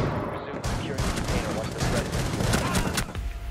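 Rainbow Six Siege gunfire during a point-blank headshot, dense bursts of loud shots and impacts crackling across the clip amid chaotic game noise, with no pauses between them.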